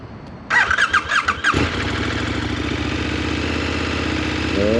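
A 2024 KTM 1390 Super Duke R motorcycle engine cranks with a chirping starter, catches and blips through several sharp revs, then settles into a loud, steady near idle that swells slightly at the end.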